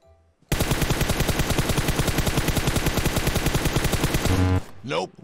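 Rapid automatic gunfire from a Groza assault rifle in a mobile battle royale shooter, a sustained loud burst of evenly spaced shots lasting about four seconds, followed by a short trailing sound.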